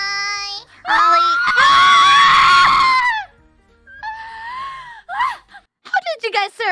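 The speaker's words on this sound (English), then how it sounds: "So I decided to just scream it out, which is why it sounded like this." A woman screams long and loud at close range, with strained, wavering cries, followed by shorter yelps and breathy vocal bursts in a replayed debut livestream.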